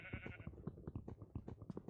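Sheep in the Minecraft video game bleat in a quick run of short, clipped calls, several in a row, fairly quiet with nothing else over them.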